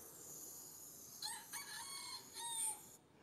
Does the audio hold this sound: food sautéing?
no